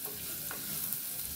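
Chopped onion roasts dry in a clay pot while being stirred for a bean usal, giving a steady soft sizzle and scraping throughout, close and moderately quiet, with no talking.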